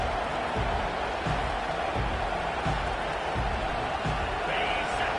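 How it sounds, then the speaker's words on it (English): A stadium crowd at an Auburn versus Baylor football game makes a constant broad roar under a commentator's voice, with no quiet gaps. "This crowd bringing the energy and noise early"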